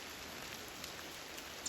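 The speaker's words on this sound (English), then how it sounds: "It's lightly raining now." Light rain falls in an autumn forest in southwest Washington, a faint, steady, even patter with no voices.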